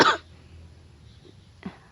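A sharp, close cough bursts out at the start, followed by quiet room tone and a softer second cough near the end.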